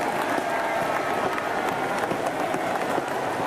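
Spectators lining the Paris 2024 para cycling road race applaud and cheer a Brazilian rider, dense continuous clapping and crowd noise filling the whole stretch at steady loudness.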